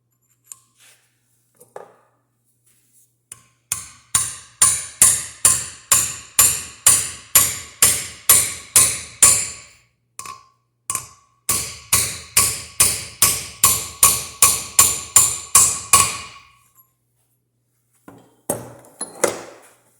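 Hammer blows drive a tool to install valve guides in a Caterpillar 3034 cylinder head, with long runs of steady, evenly spaced metallic strikes that ring sharply and close, a short pause, then another run and a few final taps.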